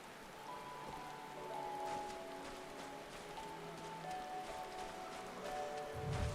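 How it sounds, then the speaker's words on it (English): Steady rain from the video game Final Fantasy XIV, a continuous dense patter of drops with a faint tonal music bed underneath, even and moderately loud throughout. "The rain is so bad it rains through covers"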